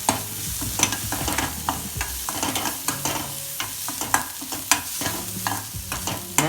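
Ground spices such as cinnamon powder and garam masala sauté in a pan for stuffed onions, with a low sizzle under frequent stirring clicks and scrapes of a spoon against the pan.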